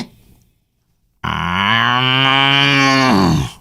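After a short silence, a cow lets out one long, loud, close moo that holds steady for about two seconds.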